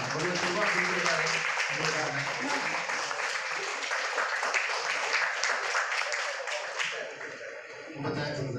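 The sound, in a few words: audience applause at Rotary Club installation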